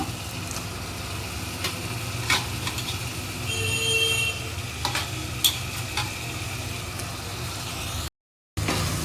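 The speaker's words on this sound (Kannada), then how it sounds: "ಇವಾಗ ಇದಕ್ಕೆ ಹೆಚ್ಕೊಂಡಿದ್ದ ಮೊಟ್ಟೆನ ಹಾಕೋಣ" Chopped boiled egg tossed into a hot pan sizzles steadily while a spatula scrapes and stirs in intermittent clacks, with a brief silent gap near the end.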